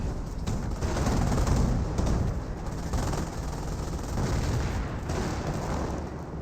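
Autocannons and rifle fire rattle through a Company of Heroes 1 battle, with dense, overlapping bursts and booming impacts rolling on continuously at close range, swelling and easing without any talk.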